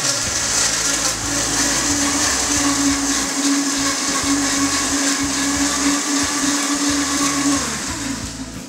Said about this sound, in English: I don't blend it that much because I actually like little chunks of ice in there.